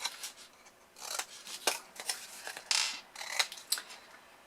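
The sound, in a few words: cutting wedges off paper box corners with scissors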